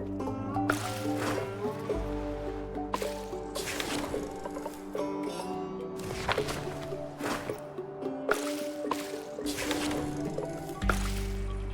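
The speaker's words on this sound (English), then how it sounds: "I am going to start boiling water" Boiling water in the floating-colony sim game Flotsam, wet squishing and sloshing game effects with bubbly drips repeating in loose pulses over a steady low musical drone, no talk.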